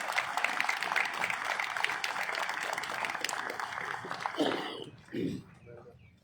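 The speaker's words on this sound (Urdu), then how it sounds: "بچے کے لیے تالیاں ہونی چاہیے" Audience applause for a high-school student at a welfare society function, a steady wash of clapping that fades out after several seconds and gives way to a few brief voice sounds.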